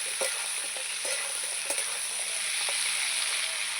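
Vegetables with salt stirred in a frying pan, a steady broadband sizzle with a few soft scrapes and taps of the utensil, close and even throughout.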